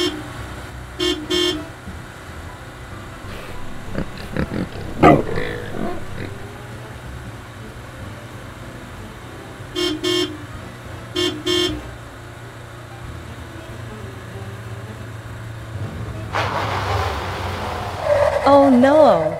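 An animated cartoon truck honks several times in short repeated toots, with cartoon engine noise and a rising rush of movement near the end. Character voices are heard now and then.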